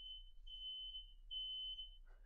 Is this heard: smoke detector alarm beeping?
yes